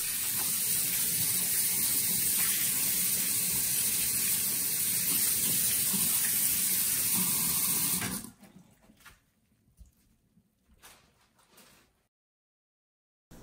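Steady broadband rush of running water from a tap, loud and continuous for about eight seconds, then cut off, leaving a few faint clinks and drips.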